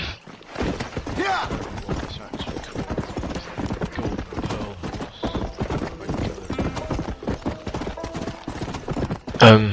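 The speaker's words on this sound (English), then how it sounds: "obviously that is one of the better horses in the game" Horse hooves clip-clop at a steady trotting rhythm in the Red Dead Redemption video game, continuous and fairly loud, with talking over them and a brief louder sound at the very end.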